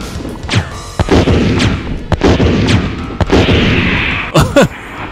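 Loud booming blasts from a bazooka in Resident Evil Director's Cut on PlayStation 1 fire repeatedly, with heavy explosions and rumbling impacts layered over a dense background of game noise.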